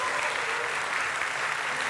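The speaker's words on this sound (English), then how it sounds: "A big applause for all our panelists here." Audience applause for a panel of speakers at a live-streamed event, a steady dense wash of clapping from a crowd filling the whole stretch at moderate loudness.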